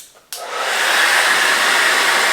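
A hair dryer blows hair during a blowout, starting with a brief click and then settling into a loud, steady, close-up whoosh with no talking.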